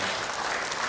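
A church congregation claps steadily and loudly for a full second, a dense wash of hands with no speech over it.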